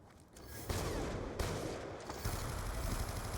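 Rapid Five-seveN pistol fire in the Call of Duty game Black Ops 2, dense bursts of shots starting abruptly after a quiet moment and continuing as a loud, continuous volley.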